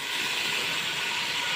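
Washed, scored quail frying in a pan, a steady loud broadband sizzle and hiss that holds evenly throughout with no pauses, close up and alone.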